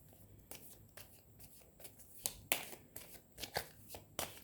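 A deck of tarot cards is shuffled by hand in a run of crisp riffles and soft slides, with sharper snaps rising toward the middle and end.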